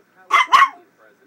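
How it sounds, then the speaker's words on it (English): A dog gives two quick, close barks in a row, sharp and loud against an otherwise quiet room. "You're barking like a little girl."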